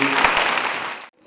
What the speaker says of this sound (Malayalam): കൈയടിച്ച് നന്ദി പറഞ്ഞു